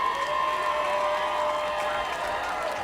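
Crowd at a Florida high school lacrosse state championship, a steady wash of distant cheering and clapping with a sustained tonal hum, even and unbroken throughout.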